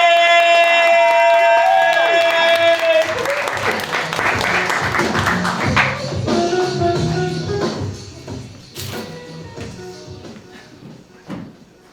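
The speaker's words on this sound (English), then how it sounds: "Put your hands together. Start clapping." An audience at a youth poetry slam claps as performers walk on stage, with a loud burst at first that thins into scattered applause and crowd noise, while a sustained musical tone sounds briefly at the start.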